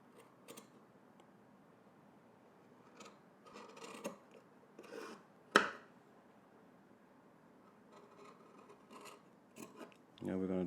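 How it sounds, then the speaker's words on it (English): Scissors trim seam allowances on shirt fabric, a few faint snips and rustles scattered through near silence, with one sharper click midway and a brief hum of handling at the end, no voices. "Okay, so now I'm just gonna do a little trimming."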